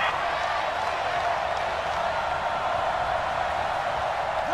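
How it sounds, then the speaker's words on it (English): A home crowd at a football game booing a pass interference call, a sustained wash of stadium crowd noise heard from a distance, steady and unbroken for several seconds. "Some boos coming down right now from this home crowd after that call"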